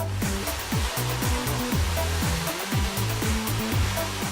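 A hair dryer blows steady heat onto hair wound around a round brush at a salon, a loud continuous whoosh close up, with rhythmic low thumps and whirs from the brush turning through the hair.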